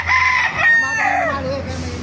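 A rooster crows loudly and close at a gamefowl market in Baliuag, one long drawn-out cock-a-doodle-doo that fills the moment, with a low background hum.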